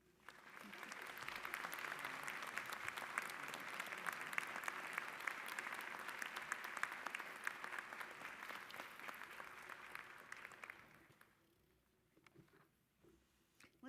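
Commencement audience at a nursing school ceremony applauds honored nurses, a sustained, even roar of clapping for about eleven seconds before fading into quiet room sound with a few stray claps.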